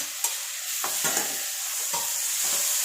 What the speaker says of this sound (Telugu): మునక్కాయలు అయితే కొద్దిగా మగ్గాయి. టమాటా వేసేస్తున్నా.